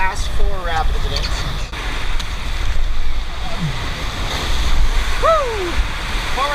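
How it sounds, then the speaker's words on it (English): Rushing white water of Class 4 river rapids during a rafting trip through the Royal Gorge, a steady broadband roar of churning water and wind with shouted voices rising over it. "we arrived at our first Class 4 rapids of the day"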